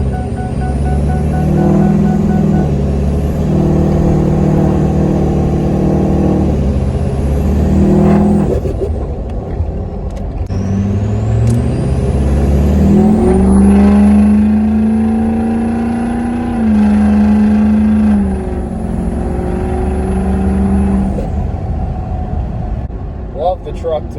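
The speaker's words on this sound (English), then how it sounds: "the turbo flutter is enough to make a grown man cry" A Ford 6.0 diesel truck revs and lets off, its turbo fluttering between loud engine bursts, with a high whistle rising and holding near the middle; someone talks over the sound in places.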